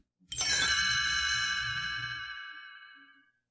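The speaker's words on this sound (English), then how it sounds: "You will know it is time to turn the page when you hear the chimes ring like this." A single bright page-turn chime from a 1985 read-along cassette rings out clearly and alone, its shimmering tone lingering and slowly fading away.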